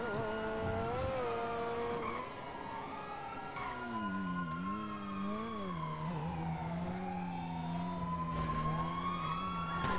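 Overlapping police sirens wail and sweep continuously in a Grand Theft Auto V car chase, loud and close, with engine noise beneath and no talking.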